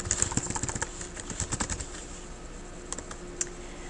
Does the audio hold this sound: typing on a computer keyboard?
yes